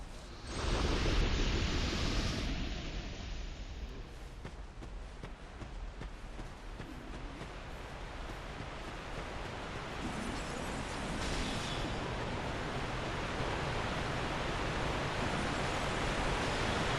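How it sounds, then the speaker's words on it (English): Big waterfall in Dark Souls 2 near the Old Iron Keep, a loud, steady broadband roar of rushing water that fills the whole stretch without pause, swelling slightly at the start. "So there's a big waterfall here. It's really loud."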